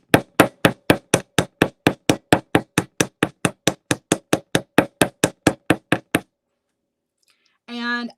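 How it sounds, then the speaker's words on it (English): Steady rapid hammering on metal necklace wire, about two dozen sharp, evenly spaced strikes for six seconds, then a pause and a brief faint rustle at the end. "And I'm going to hammer the whole entire thing, meaning I'm going to do the loops as well."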